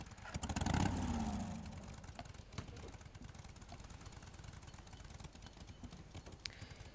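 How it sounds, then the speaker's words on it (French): A motorcycle engine in the video game Days Gone starts with a loud revving burst, then settles into a steady low idle rumble with faint clicks and scattered transients, close and continuous. "Je grimpe sur ma moto."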